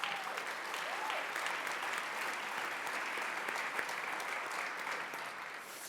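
An audience at a university system address breaks into sustained applause, a dense, even roar of clapping that carries for several seconds before easing slightly at the end, with a few faint voices underneath.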